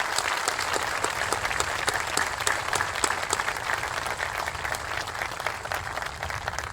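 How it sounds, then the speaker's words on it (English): Sustained applause from a graduation ceremony audience at a military regiment's advanced camp, honoring veterans; dense, steady clapping fills the whole stretch at a fairly even level, with no voices standing out. "How about a great round of applause for our veterans?"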